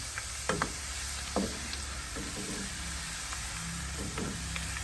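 Beef pieces browning in a hot pan for beef sinigang give a steady, close sizzle with a few sharper pops and crackles near the start, heard alone without talk.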